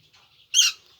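Pet parrots, lovebirds and ring-necked parakeets, give one loud, harsh squawking call in the middle after a few faint high chirps, then quiet again.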